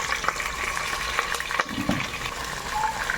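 Chicken gizzards sauté with onion and garlic for a canton noodle dish, giving a constant close frying hiss broken by a few stirring clatters.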